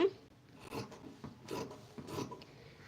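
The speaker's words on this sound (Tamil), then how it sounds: "இந்த எக்ஸஸாக இருக்கிறத வந்து கட் பண்ணிக்கோங்க" Scissors trimming excess net saree fabric, giving three soft rasping snips spaced about half a second apart, close and quiet with no voice over them.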